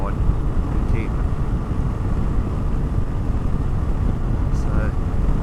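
Motorcycle ride on a moto camping trip in April, with a steady loud engine and wind roar throughout, close and continuous, no talk over it.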